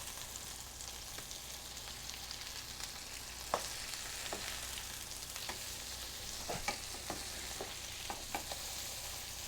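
Greek burger patties sizzle in a pan with a soft, continuous frying hiss and occasional faint pops and clicks, quiet and steady with nobody speaking.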